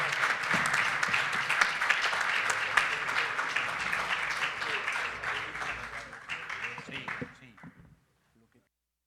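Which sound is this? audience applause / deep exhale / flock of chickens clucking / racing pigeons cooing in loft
audience applause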